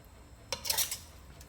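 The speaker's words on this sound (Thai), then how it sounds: "เรามาตักเสิร์ฟใส่จานครับ" A metal utensil scrapes stir-fried pork stomach with dried chilies out of a pan onto a plate in one short, close clatter, and then the kitchen goes quiet.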